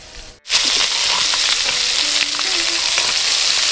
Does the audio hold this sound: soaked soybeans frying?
yes